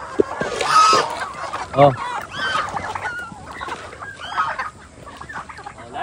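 Geese and chickens feeding on yellow corn, with scattered clucks, a honk and squawks close by, and someone speaking briefly among them.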